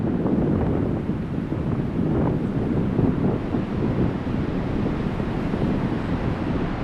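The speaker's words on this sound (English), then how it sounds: "At 8:30 a.m., white waves begin causing ripples." White-crested tidal bore waves move upriver on the River Severn, heard as a continuous roar of rushing water heavily mixed with gusty wind noise on the microphone, loud and unbroken, with nobody speaking.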